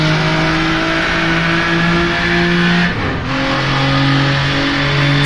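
Jaguar D-Type racing car in rFactor 2 on the Isle of Man Mountain Course, its engine droning loud and steady with rising harmonics, a brief shift dip near the middle, then pulling hard again.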